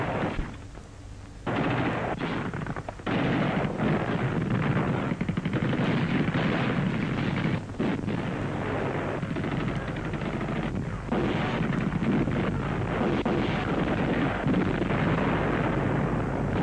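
Wartime machine guns and anti-tank cannons fire in the Tunisia campaign, a dense, continuous barrage of loud bursts and heavy booms that goes on for the whole stretch.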